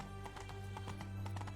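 Horse hooves clip-clop in The Witcher 3 video game, a quick series of sharp hoof beats over a steady low hum of game ambience and music.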